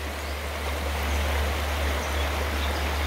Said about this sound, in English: Oh yeah, white water.